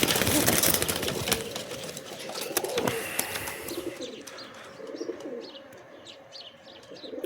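Birds coo and chirp in short repeated calls over a dense bed of background noise, with a few brief flutters.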